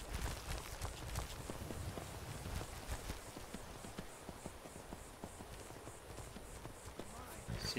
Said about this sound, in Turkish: Arkamızdan attıkları bir şey yok ama ayak sesleri yaklaşıyor.